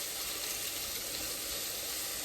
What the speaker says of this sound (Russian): Лук мы обжариваем хорошенько до золотистой корочки. Вот, помешиваем периодически.